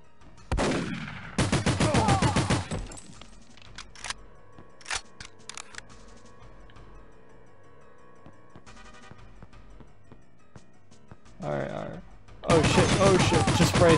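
Gunfire from the video game 007: The World Is Not Enough comes in loud rapid automatic bursts near the start and again at the end, with scattered single shots and game sounds in between.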